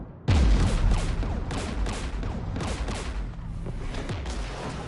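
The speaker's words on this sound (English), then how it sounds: "We're taking fire." Video game gunfire from Mass Effect 3 erupts suddenly after a brief quiet, a dense, loud fusillade of overlapping shots and booms that keeps up continuously as the squad takes fire.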